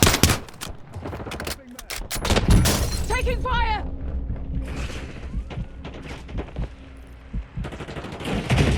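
Bursts of automatic gunfire ring out in the Call of Duty Warzone video game, loud and close, mixed with shattering and in-game voice callouts that come partly over the shooting.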